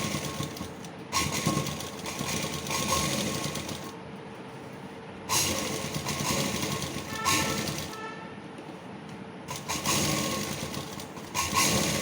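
A sewing machine stitches a kids' kurta in repeated bursts of steady, buzzing whir, each a couple of seconds long and separated by short pauses, close and fairly loud.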